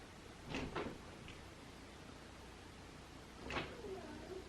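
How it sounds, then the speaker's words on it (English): A door is pushed open in two short, scraping bursts separated by a pause, close by and fairly soft, against a quiet room background. "Daddy's coming to open the door."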